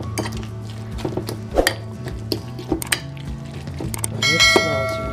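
A utensil clinks and clangs against a bowl while tuna stuffing with black pepper and kosher salt is mixed, giving irregular sharp knocks and a ringing ding near the end, close and loud.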